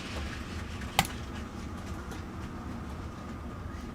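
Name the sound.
model trains running on a layout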